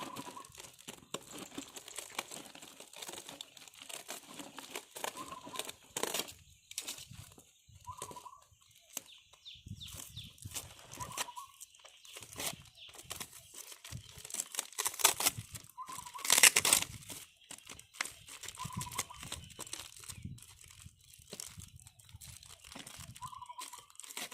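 Double-layered plastic packaging around a caladium plant is crinkled and torn open by hand, giving irregular close crackling rustles and crunches with a few short tonal chirps in the background.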